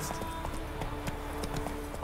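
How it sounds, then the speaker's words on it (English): A horse gallops in The Witcher 3: Wild Hunt video game, with steady rapid hoofbeats that sound close and continue throughout. "Let's call my horse."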